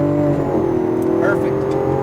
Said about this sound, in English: as you start to straighten out the wheel, put the power down and shift up